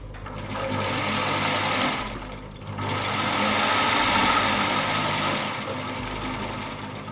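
A sewing machine stitches a trouser seam, its motor running as a steady, close whir that pauses briefly and then resumes.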